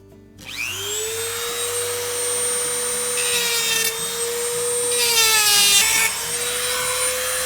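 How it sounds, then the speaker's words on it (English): A small rotary tool spins up to a high steady whine and grinds the head off a rivet on a Whirlpool refrigerator roller bracket, with harsh scraping bursts as the bit bites into the metal. "we'll just grind the head off of that rivet"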